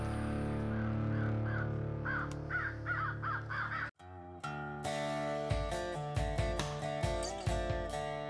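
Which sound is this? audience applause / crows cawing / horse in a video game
crows cawing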